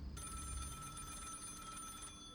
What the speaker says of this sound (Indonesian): lo denger suara telepon? Telepon rumah ya?